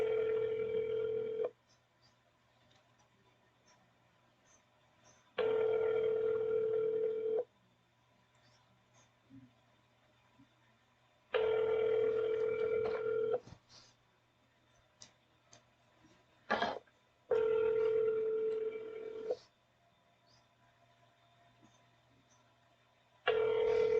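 A telephone hold tone plays on a sheriff's office line while a call is transferred. Steady electronic tones come in separate bursts a few seconds long, broken by quiet gaps, and sound thin and faint over the line.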